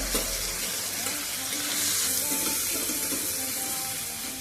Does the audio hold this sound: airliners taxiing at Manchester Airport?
no